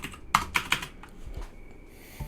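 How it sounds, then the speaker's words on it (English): Keystrokes on a computer keyboard during a coding session, a few sharp clicks in a quick cluster followed by softer scattered taps, close and fairly quiet with no talking. "I am mistyping on the keyboard."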